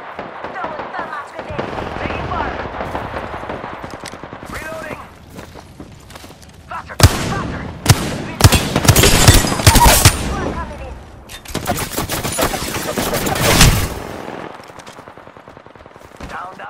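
Gunfire from an Apex Legends-style battle royale match played as Crypto, with bursts of rapid automatic shots and loud sustained volleys alternating with quieter stretches of game sound.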